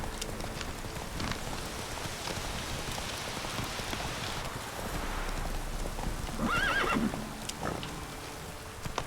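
Geralt's horse Roach in The Witcher 3 video game, hooves clopping steadily under a constant hiss of rain, with a brief whinny near the end, moderately close and with no speech.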